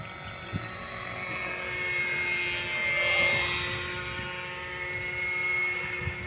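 A small RC stick plane, a park-flyer type, buzzes overhead at a field as it comes in to land, its propeller drone swelling and fading as it passes at moderate distance over a faint background hum.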